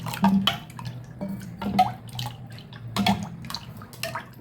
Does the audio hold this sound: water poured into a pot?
yes